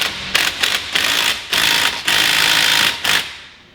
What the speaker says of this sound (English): We're just using a little impact, so I gave it a little bit more